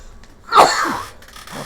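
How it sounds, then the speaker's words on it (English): A man sneezes once, a sharp loud burst that trails off into a breathy tail, close and alone while he works on building an Imperial Knight model. "Pardon me, blimey, what a sneeze."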